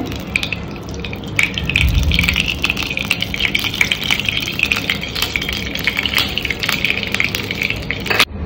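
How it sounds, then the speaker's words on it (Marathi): Oil poured into an appe pan while making healthy mini kachoris, heard as a steady liquid gush and light sizzle that holds across the whole stretch, close and moderately loud with no talking. "आता मी आप्पे पात्रामध्ये तेल घालून घेतेय."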